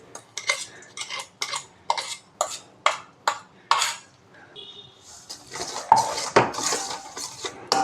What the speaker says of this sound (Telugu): ఇదంతా కూడా కొంచెం ఇలా నూనెలో కలిసేలాగా కలిపేసుకుని